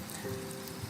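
Steady, soft rain in the Roblox game Greenville, a continuous faint hiss of falling drops with no breaks and no voices.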